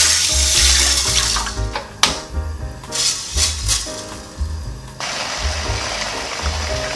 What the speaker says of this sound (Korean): 여기 물 600ml 정도 붓고요.